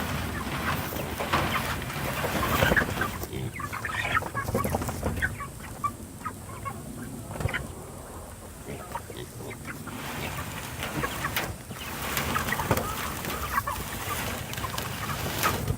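Young chickens, 33 days old, cluck and murmur nearby in a steady, busy chatter, with soft scratching and shuffling noises around them.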